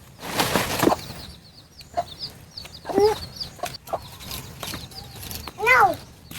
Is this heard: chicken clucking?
yes